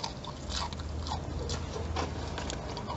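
Fried shrimp crunch between the teeth in a close, quiet series of crisp bites and chews, repeating at an irregular rhythm with no talking.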